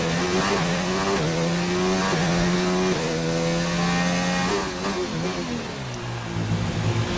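Race cars in an F1 video game roar past on track, loud engines droning and shifting pitch continuously throughout, with a gear change and deceleration near the end and no talk.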